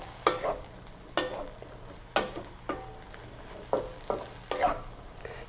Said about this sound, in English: I'm going to stir it just a little bit and mix it all together.